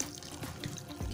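Water pours steadily from a tap or hose into a pot of bare-root plants, soaking the growing medium in a continuous close splashing stream with no talking.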